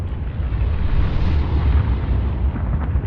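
An underwater torpedo explosion in Subnautica rumbles as a loud, sustained muffled roar lasting a few seconds, deep and heavy, with no talking.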